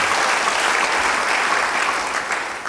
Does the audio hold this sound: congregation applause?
yes